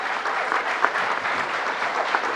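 A Rochester audience rises to applaud the governor at a gang-violence announcement, a loud, dense, sustained round of clapping from a large crowd, steady throughout with no voices.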